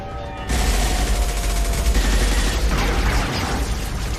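Loud burst of automatic gunfire from the video game Mass Effect 2, erupting after a brief quiet lead-in and continuing as a dense, sustained volley.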